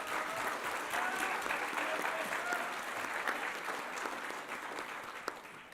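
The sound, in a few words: applause for a trio at an awards ceremony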